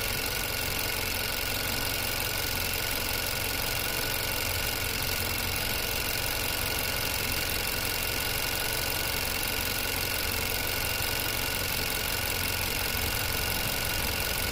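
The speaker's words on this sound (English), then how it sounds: "Our idle seems to be a little bit more stable now." A 2016 Chevrolet Cruze 1.4 L engine with a P1101 fault idles steadily, a faint, even hum with a light mechanical knock running through it and no voices.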